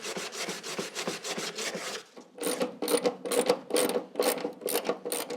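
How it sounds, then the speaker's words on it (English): Repeated rhythmic scraping and ratcheting as the last bolt is wound out of the fender of an MGA sports car, a steady run of short strokes, a brief pause, then faster bursts close by with no talk. "And the last bolt goes out, and I should be able to take off the fender."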